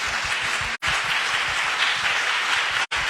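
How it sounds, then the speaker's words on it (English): Steady, full applause from an audience honouring fathers at a talk, a dense wash of many hands clapping close and even throughout, with two brief dropouts. "Let's give them a round of applause."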